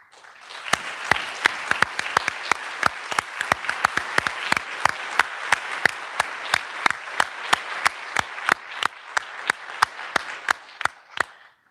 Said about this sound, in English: can you please stand so we can give you a round of applause?